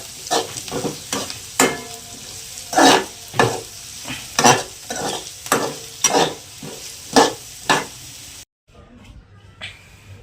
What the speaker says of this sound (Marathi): कांदा असं करपणी म्हणून असं हलवून घ्यायचं बघा मस्त